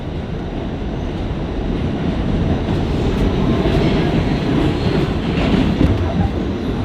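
A subway train rumbles steadily at an underground stop, a loud broadband roar of rolling railcars with faint clickety-clack and brief wheel squeal, continuous throughout with no talking.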